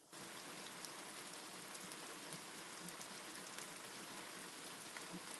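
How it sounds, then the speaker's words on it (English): Steady rain falls in a dense, even hiss with faint drop ticks, continuous and fairly quiet throughout with no thunder or voices. "I don't hear the thunder. I just hear the rain."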